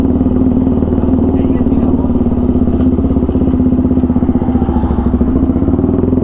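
A KTM Duke 200 motorcycle with a loud aftermarket exhaust runs steadily in a closed area, a dense, throbbing engine note that stays constant and close for the whole stretch.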